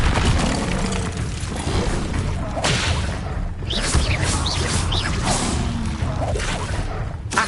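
Hogwarts Legacy spell combat with an Incendio fire spell: whooshing bursts and heavy booms in a loud, continuous mix of impacts and crashes, with no clear talk.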